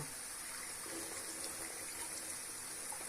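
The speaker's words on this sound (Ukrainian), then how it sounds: "ми помиємо печінку під проточною водою" Running tap water pours in a steady, even rush over raw liver being rinsed, close by and unbroken, with no one speaking.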